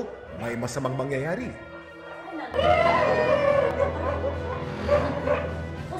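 Siberian Huskies from a large pack howl and yip in a drawn-out chorus, then bark and whimper more loudly and densely, close by, with a person speaking over the start.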